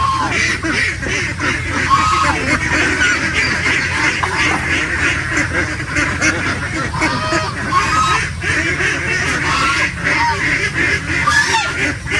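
A dense flock of ducks on a farm quacking continuously, loud and close, the overlapping calls forming a constant noisy chorus throughout.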